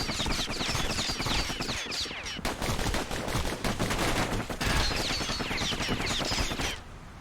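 Sustained rapid gunfire from the kid's pair of guns in the video game Bastion, a dense stream of crackling shots running nearly the whole way with a brief pause before fading at the end.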